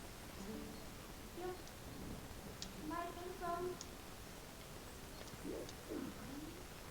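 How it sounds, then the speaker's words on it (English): Low cooing calls from big black birds at Hyrule Castle in the video game Twilight Princess, a few scattered coos and chirps heard faintly against a quiet ambient background. "So there are big, black, scary birds"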